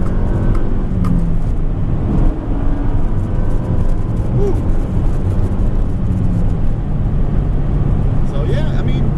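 A Mazda Speed3 accelerating hard with its wheels spinning, a loud, sustained engine roar heard from inside the car, with a voice speaking over it.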